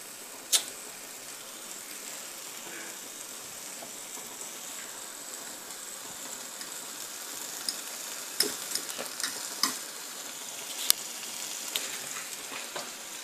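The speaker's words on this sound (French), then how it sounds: "Ah, ça commence à frire." Carbonara ingredients frying in a pan for a homemade pasta dish, a steady soft sizzle running throughout with a few sharp clicks and clinks of utensils near the end, no talking.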